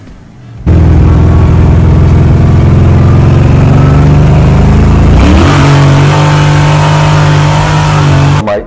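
A four-speed car's engine revs hard and loud with no talk, its roar climbing steadily, dipping briefly near the middle as though shifting, then holding a high steady pitch before cutting off at the end.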